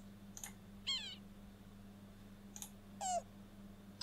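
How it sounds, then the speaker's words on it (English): In the Wingspan digital board game, a bird call plays when a bird card is clicked: two short, clear calls with descending warbled notes, each led by a softer chirp, over a faint steady background hum. "when you click on a bird, you hear that call, and that works for all of them"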